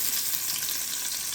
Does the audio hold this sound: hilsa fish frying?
yes